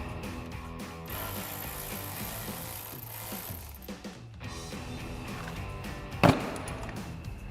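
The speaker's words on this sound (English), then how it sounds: "There's a clamp here with a 7mm nut that we're gonna loosen up." A ratchet clicks in short bursts while loosening a 7mm clamp nut on the exhaust fill neck of a 2013-2014 Mustang GT, faint and close, ending with a sharp metallic clank.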